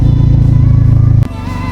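A motorcycle engine idles close by with a loud, steady low thump, then its pitch and rhythm shift abruptly as the running note changes near the end.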